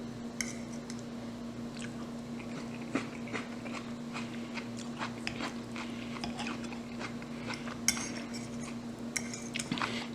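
Cutlery clinks and scrapes on a plate while someone eats seared Pacific cod and cauliflower with grilled lemon, with soft chewing sounds and irregular taps over a steady low hum.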